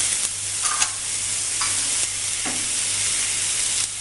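Chopped ginger, green chili and curry leaves sauté in hot oil for a red spinach stir-fry, giving a steady loud sizzle with a few scraping stirs of a spoon against the pan and no talking.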